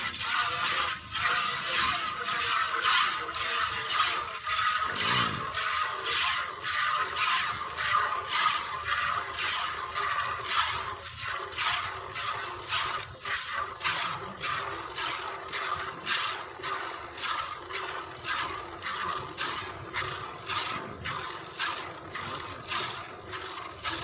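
Rapid, rhythmic squirts of milk stream into a pail as a fresh Nili-Ravi buffalo in her second lactation is hand-milked, a steady close-up hiss of pulses running throughout with no talking.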